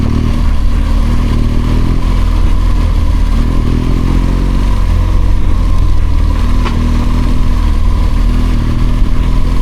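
A BMW R1200GSA motorcycle engine drones steadily while riding on a mountain skyway, a continuous loud, close rumble with wind noise and no talking.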